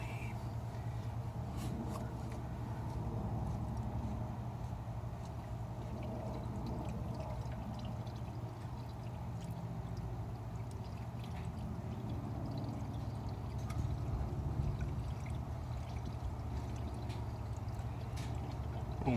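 Liquid is poured into an open car radiator in a smooth, continuous stream, a soft, steady gurgling pour heard close but fairly quiet for the whole stretch with no talking.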